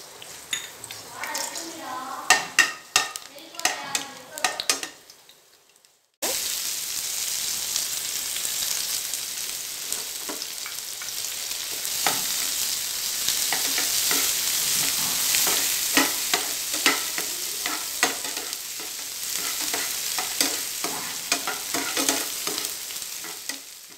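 Garlic fries in a hot pan for paneer fried rice, a steady loud sizzle after a few opening clinks, with a utensil scraping and stirring through it at intervals.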